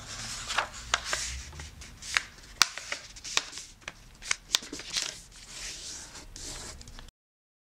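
A sheet of A4 paper being handled and creased into an origami heart, close soft rustling with several sharp crisp crackles and swipes as edges are aligned and folded, no voice.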